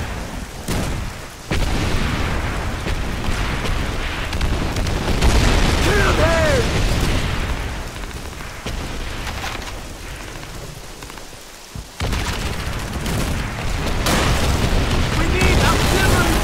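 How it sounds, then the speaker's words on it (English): Artillery explosions in the video game Call of Duty 3, heavy rumbling booms and blasts rolling on continuously with sharp drops between them, loud and close amid battlefield noise and shouted voices. "We need artillery fire on those tanks!"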